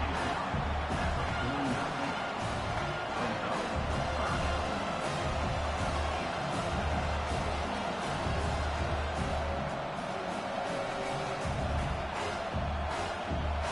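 A football stadium crowd roars steadily throughout, a broad, dense wash of voices that stays loud and sustained with no pauses.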